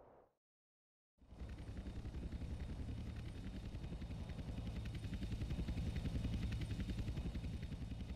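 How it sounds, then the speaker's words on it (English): Helicopter engines and rotors thump in a steady, loud, rhythmic drone that starts abruptly after a brief pause and grows slightly nearer, as agency choppers close in on an intercept in GTA San Andreas. "Two agency choppers coming in on an intercept."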